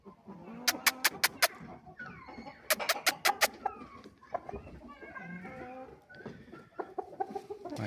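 Roosters, including a large 5.5 kg fighting cock, crow and cluck nearby in short bursts, with several sharp repeated calls in two clusters and quieter clucking between.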